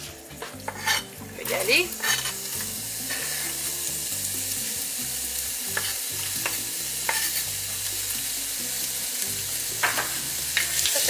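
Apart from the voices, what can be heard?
piece of ginger frying in hot oil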